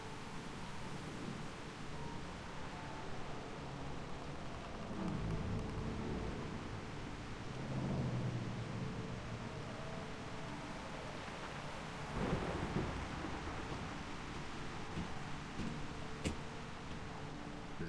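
A thunderstorm in Reverse 1999 gives a faint, low rumble of distant thunder under a constant soft wash of rain, swelling gently a couple of times.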